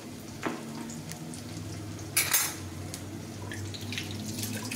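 Birista, sliced onions frying in a pan, sizzles quietly and steadily, with a sharp burst of spatter in the middle and faint clinks of a utensil against the pan.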